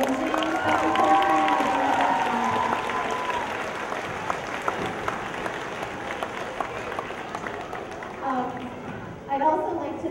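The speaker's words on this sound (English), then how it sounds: "So let's have a round of applause for Miss Anna Leslie." An audience applauds at a school strings concert, a steady round of clapping with a few cheers that fades toward the end, while a speaker talks briefly at the start and again near the close.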